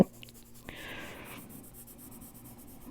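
A colored pencil scratching across paper up close, quiet soft strokes with one brighter, firmer stroke partway through, faint room tone around it.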